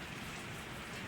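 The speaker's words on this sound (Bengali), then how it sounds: "দেখো অনবরত বৃষ্টি হয়েই যাচ্ছে" Steady rain falls outside a window, likely onto an open field, as a dense, even hiss that holds without pause for the whole stretch, with no voices.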